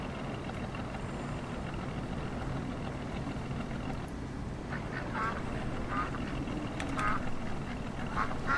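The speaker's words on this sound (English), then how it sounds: "I hear geese." Geese honking in the farming game Farming Simulator 19, a series of short nasal calls clustered in the second half over a steady low rumble of background noise.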